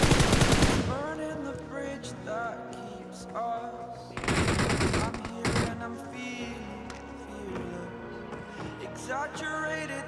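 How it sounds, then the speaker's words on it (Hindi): Gunfire in the PUBG Mobile battle royale game: several short, loud bursts of rapid shots stand out against a steady musical game soundtrack. "अभी इस बंदे को मार के मुझे आगे से और बंदूकें लड़ने की आवाज आ जाती है"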